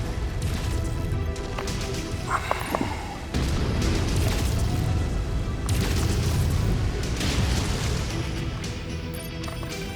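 Mech weapons fire all at once with heavy booming explosions in MechWarrior 5: Mercenaries, dense rumbling blasts and crashes filling the whole stretch at loud, sustained levels after a brief sharp burst of impacts.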